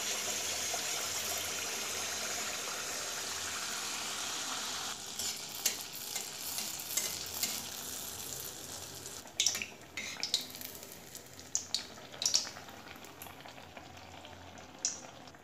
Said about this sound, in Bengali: গ্যাসের আঁচটাকে সিম রেখে কিন্তু ভাজতে হবে